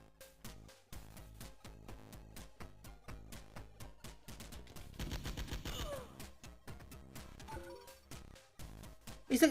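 Rapid gunfire from a ZX Spectrum Next video game, rhythmic bursts of chiptune-style shots in quick succession, with a denser flurry midway, no speech over it.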